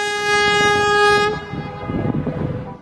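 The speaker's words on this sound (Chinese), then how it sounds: "这一类火车厉害了，车头是昆局的韶山 3B" A Shaoshan 3B electric locomotive of the Kunming bureau, a 12-axle fixed double-unit heavy freight engine on the steep Chengdu–Kunming line, sounds a loud, sustained horn blast, then its freight train rumbles and clatters past close by.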